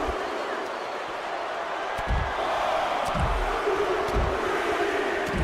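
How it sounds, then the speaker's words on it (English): Arena crowd noise from the wrestling video game WWE 2K25, a continuous roaring wash of cheering with dull thuds of in-ring impacts breaking through every second or so. "God, the crowd are loud"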